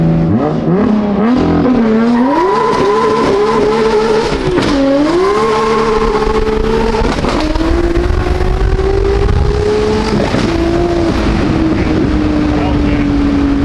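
A car with an M4 motor build roars as it accelerates hard, its engine note climbing through the revs and dipping as second gear engages before rising again, loud and close throughout.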